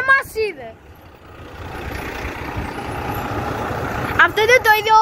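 A MAN CBR2 bus passes close by on the street. A broad engine and road roar builds and then fades, with a short hiss of air brakes. Voices speak just before and after it passes.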